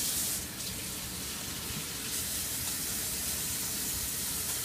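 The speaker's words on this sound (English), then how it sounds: "I'm just gonna go ahead and wash my hands first" A tap runs steadily as hands are washed, giving a continuous close hiss of water with no talking.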